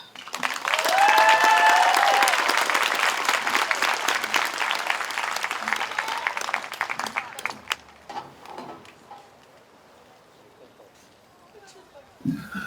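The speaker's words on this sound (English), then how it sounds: "Let's give that young lady another round of applause" The audience at a learning center graduation ceremony breaks into applause after a student's speech, with cheers and whistles over the clapping. It starts loud, thins out into scattered individual claps, and then a voice comes in near the end.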